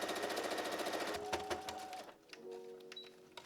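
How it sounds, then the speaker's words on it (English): A sewing machine stitches around the edges of layered dress pocket pieces, with a fast rhythmic needle chatter that stops and restarts once, close and moderately loud. "I'm going to put the two pocket layers together, and I'm basically just going to sew around the perimeter"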